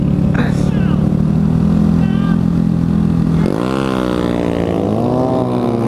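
A Honda Grom and a Kawasaki Z125 launch side by side from a traffic light, small engines revving hard and climbing through gears, loud and close, with a voice talking over them.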